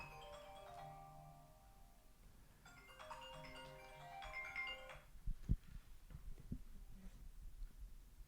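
A telephone rings with a melodic electronic tune in two bursts of bright tones, followed by a few handling knocks and clicks as it is silenced, fairly quiet with no talk.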